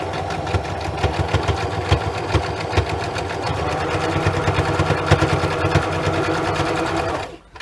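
A sewing machine stitching a junk journal cover runs steadily for several seconds with a fast, even mechanical whir and tapping needle rhythm, then stops.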